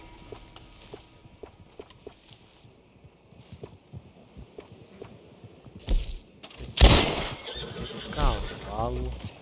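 Horse in Red Dead Redemption 2 whinnying near the end, a loud rising-falling neigh after quieter hoof and ambient sounds, with a voice speaking briefly.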